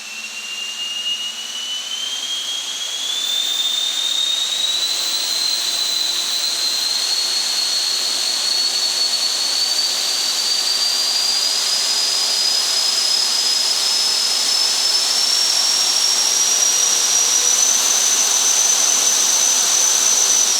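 Motors on a 3D printed electric ducted fan drone spin up together into a loud, steady jet-like whine that climbs slowly in pitch over a constant rushing hiss, with no talking.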